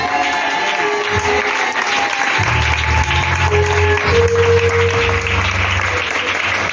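Church congregation breaking into loud, sustained applause close by, dense clapping that fills the whole stretch, with a sustained tone and a few voices mixed in.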